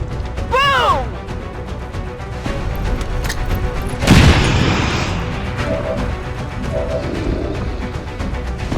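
A grenade goes off in the tactical game XCOM as one loud, broad burst that fades over about a second, set among game ambience with a voice talking around it.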